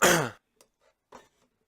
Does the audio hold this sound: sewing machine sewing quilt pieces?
no